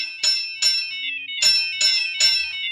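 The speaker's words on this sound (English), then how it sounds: "She stepped on her bell." A trolley car bell in a 1940s children's story recording rings five sharp, bright strikes in an uneven rhythm, loud and clear with no talk over it.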